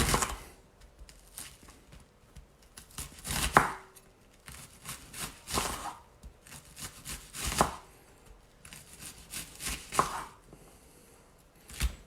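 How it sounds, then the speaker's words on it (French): An onion being chopped into small pieces with a knife on a board for boeuf bourguignon, bursts of quick, close, rhythmic taps separated by short pauses. "on va venir couper donc des tout petits morceaux"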